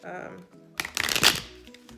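Shuffling an oracle card deck by hand, a brief rapid riffle of cards close up, following a moment of talking.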